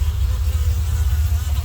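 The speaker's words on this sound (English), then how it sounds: "These are the Tennessee bees that we bought in Mount Vernon that we thought were local bees" Tennessee honey bees during an open hive inspection: a dense, steady low buzz from many bees close by, loud and continuous through the short moment.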